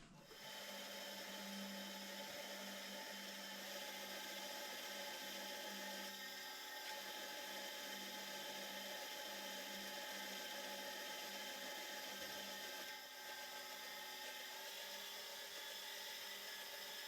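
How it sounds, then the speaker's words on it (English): A 37/64 drill bit, touched up on a grinder, bores slowly on a lathe while building a tailstock, giving a faint, steady machine whine and hum that runs without a break, dipping briefly partway through. "I've got a 37/64 drill up here."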